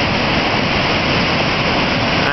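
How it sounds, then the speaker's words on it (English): A swollen waterfall near route 62 in Maynard roars as a dense, steady rush of churning water, loud and close, with no speech. "I believe this waterfall is usually a lot smaller."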